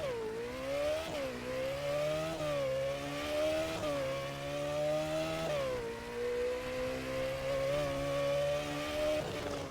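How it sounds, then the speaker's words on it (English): A Lamborghini Temerario drives past under steady engine tone that swells and dips with throttle changes, its exhaust throwing occasional crackles, with no one speaking. "you can hear the crackles as well"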